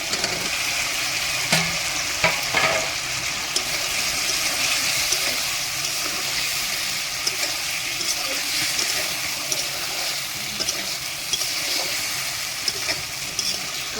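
Boiled potatoes are stirred into a frying spice masala for an egg and potato curry, with a continuous moist sizzle broken by scraping and clattering stirs close up, no voices.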